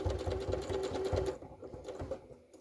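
A domestic sewing machine stitches a seam on a Rochelle dress with a zipper, a close, rapid mechanical chatter that runs steadily and then slows into a few separate stitches before stopping.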